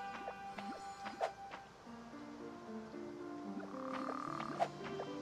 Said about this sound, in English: Come back here, frog.